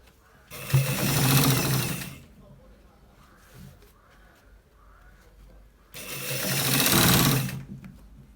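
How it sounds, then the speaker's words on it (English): A sewing machine stitches the end part of a collar shirt in two loud, steady bursts of rapid mechanical whirring, with a quieter pause between them where faint voices and handling noises come through. "So we are stitching it to the end part."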